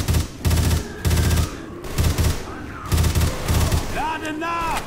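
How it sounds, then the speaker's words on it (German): A suppressed submachine gun fires in short, rapid bursts in Left 4 Dead, loud and close, with game sounds and voices in between. "Da gedämpfte Maschinenpistole"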